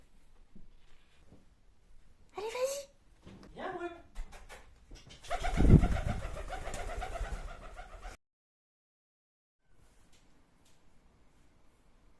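A pet pigeon coos in short low burbling phrases, close by, mixed with other bird calls and a brief louder burst, then the sound drops to near silence.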